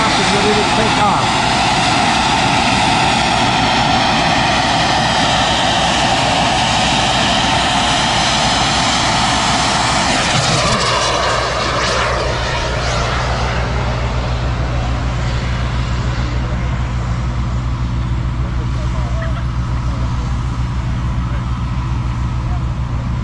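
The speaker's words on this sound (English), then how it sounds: "the drone now is going up and ready to take off." A drone takes off at a Patriot missile launch site, a loud steady engine roar with a sweeping pitch change around the middle that settles into a constant low drone, with people talking faintly underneath.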